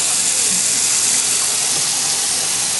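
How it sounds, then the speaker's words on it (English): A tap runs steadily into a sink, producing a constant, loud hiss of flowing water with no breaks. "Turn the water on."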